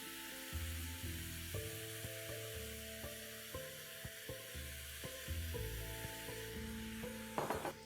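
Bean sprouts hitting a hot pan of Thai chicken stir fry, a soft steady sizzle with light stirring and scraping under quiet background music.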